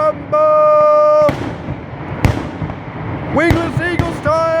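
Sharp fireworks reports burst at a family gathering in Lonaconing, Maryland, several loud cracks scattered among whistling tones and cheering voices, fairly close and punchy.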